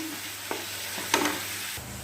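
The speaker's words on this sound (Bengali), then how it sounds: "এবারও মশলাগুলো ভালো করে কষিয়ে নেবে" Spices sautéing in a pan for soya curry, a steady soft sizzle with a couple of stirring scrapes, close by and with no talking.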